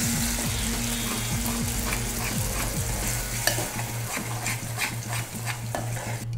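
Paste of ground raw tomato and onion cooks on a low flame in a pan for a radish kofta gravy, with a steady sizzle and scraping stirs throughout, under a tonal musical backing and no speech.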